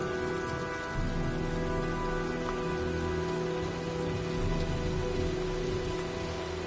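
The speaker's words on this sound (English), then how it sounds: "Well, looks like a storm's coming." Steady rainstorm in the PS4 video game Heavy Rain, a dense continuous patter of rain on surfaces with a faint low rumble, alone without voices.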